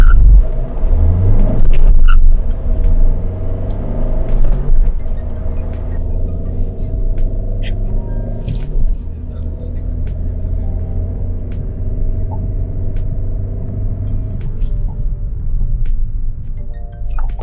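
Inside a Tata Altroz hatchback with a 1.5 litre diesel engine and five-speed manual gearbox, driven in economy city mode: a steady, loud low engine rumble with slight swells and a few soft knocks from the cabin throughout.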